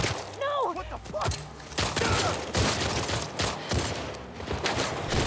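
Bursts of gunfire in The Last of Us Part II, a rapid fusillade of close, punchy shots and thuds mixed with shouted voices and a pained cry.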